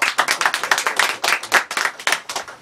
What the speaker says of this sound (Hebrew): כולם באולפן מחיאות כפיים לשלוימי גרטר